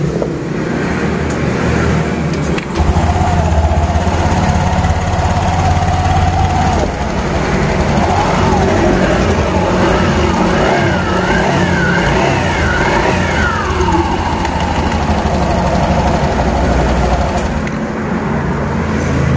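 An automatic scooter engine runs close up after a CVT repair, holding a loud steady idle with a few rising and falling revs in the middle.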